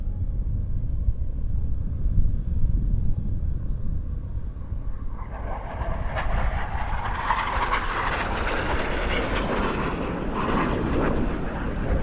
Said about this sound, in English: As it comes and performs a knife edge pass.